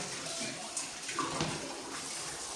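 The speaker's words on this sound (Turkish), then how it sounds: "Bulaşığımızı yıkayalım" Tap water runs steadily into a kitchen sink while dishes are washed, a soft continuous hiss with faint clinks and no talking.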